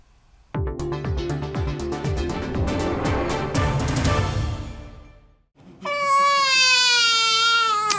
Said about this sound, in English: a newborn baby takes its first few breaths and lets out its first loud cries